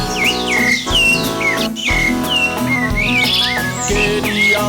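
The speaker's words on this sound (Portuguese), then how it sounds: "Queria saber por que o sabiá estava cantando." A sabiá thrush sings a run of clear, fluting whistled phrases with chirps, loud and close, over steady musical accompaniment.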